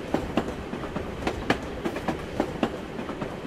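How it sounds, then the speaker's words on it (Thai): Tram ride in the video game Assassin's Creed Chronicles Russia, with a steady rumble and repeated clickety-clack wheel beats on rail joints, loud and continuous with no talk. "ขึ้นมาบนรถราง"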